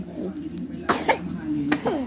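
Two short, rough coughs from sick ducks rise over a low background hum, close by and a moment apart.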